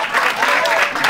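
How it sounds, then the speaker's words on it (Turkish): Studio audience applauding on a Turkish entertainment show, a dense, steady burst of clapping with some voices mixed in underneath. "Alkışlarla."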